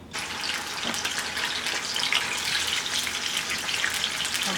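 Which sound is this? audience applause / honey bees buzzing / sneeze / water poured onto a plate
water poured onto a plate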